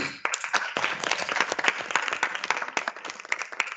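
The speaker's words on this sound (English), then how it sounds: "Are you clapping for me?" A lecture audience claps after a vote of thanks, a moderate round of many hands with distinct sharp claps, fairly close and continuous with no talk over it.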